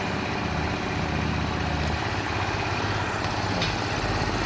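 Yamaha Factor 150 motorcycle engine running with a bearing-like mechanical noise, a constant loud drone with steady rattling texture throughout, close up and without talking.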